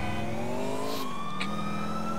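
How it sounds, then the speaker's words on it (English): A wailing police siren in a video game sweeps up and down over a steady engine drone, loud and close, with no voices. "Nice siren."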